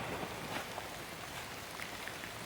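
Rain falls continuously over open rural land in northeast Thailand while buffalo graze, a constant broadband patter with scattered nearby drops ticking through it and no one speaking.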